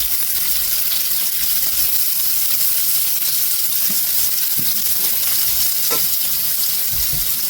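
Luffa slices caramelizing in a hot skillet on high heat: a loud, dense, steady sizzle and crackle throughout, with occasional small pops and no talking.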